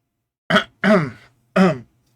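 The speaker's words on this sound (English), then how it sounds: "Let me clear my throat." Three quick, throaty bursts of a person clearing their throat, close and loud, the first short and the next two longer and raspier, separated by brief silences.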